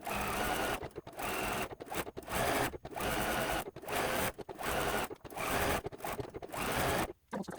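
A sewing machine stitches interfacing shapes onto a single piece of quilting fabric for a flower quilt block, running in steady bursts with short pauses between seams, close and clear with no talk.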